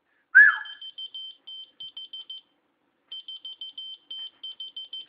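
A short whistle is followed by a Key Finder keychain beeping back in quick electronic chirps, two bursts of rapid beeps separated by a brief pause, clear and alone.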